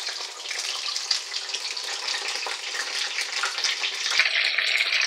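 Flounder pieces deep-frying in hot oil, including the fish head, give a steady, dense sizzle and crackle that stays loud and continuous throughout with no talking.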